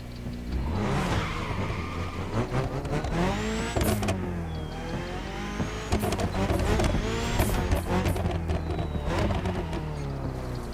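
AGP top-tier race cars in The Crew Motorfest, a racing video game, roaring continuously with shifting engine pitch and revving sweeps, with whooshes and tire noise throughout, loud and close with no talk.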